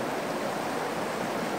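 Water rushing steadily through a gold-mining sluice set steep with high flow, a soft, continuous hiss and gurgle with no voices.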